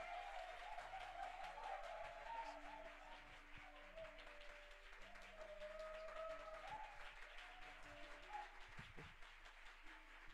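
Faint congregational applause and cheering at a church service welcoming a speaker, distant-sounding clapping under sustained tonal music or singing, with scattered voices in the hall.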